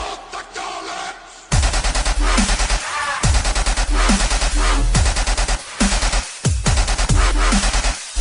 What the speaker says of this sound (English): the staccato 3/4 triplet machine gun bass that we know today